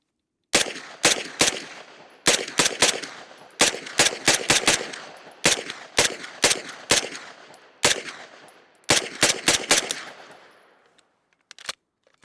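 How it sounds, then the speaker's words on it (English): An MP5-style gun fires through an entire magazine in rapid bursts and strings of sharp, loud reports that echo outdoors, with brief gaps between groups, ending in a fading tail and a few clicks. "it ran an entire mag without jamming up"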